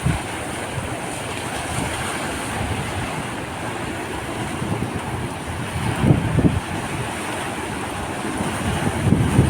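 Rough sea waves churn and surge under strong gusting wind buffeting the microphone, a continuous roar with occasional heavier swells.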